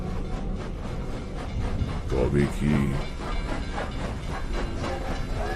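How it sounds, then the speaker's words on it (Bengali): A train pulling away in an audio drama: rumbling rail noise with rhythmic clatter and a hiss, steady and fairly close, as a voice speaks briefly over it. "ট্রেন ছেড়ে দিল"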